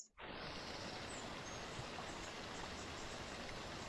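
Water from a stream rushes over rocks in a steady, full hiss that begins abruptly and stays constant, close and fairly loud, with no voices.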